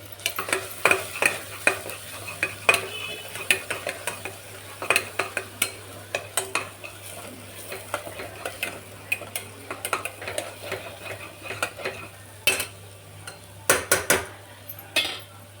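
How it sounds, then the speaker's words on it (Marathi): Black masala, red masala, mutton masala and turmeric frying in oil in a pan for usal, a soft sizzle beneath repeated sharp scrapes and clinks of a spoon stirring against the metal pan. "मसाला तळून घेऊ."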